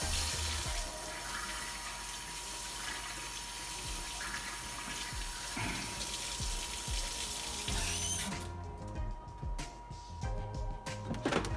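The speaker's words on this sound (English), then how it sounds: "we're gonna take this. We're gonna just wash it down real quick." A Keurig coffee maker part rinsed under a running sink tap, a steady close hiss of flowing water with clatter and knocks as the piece is handled, the flow cutting off near the end.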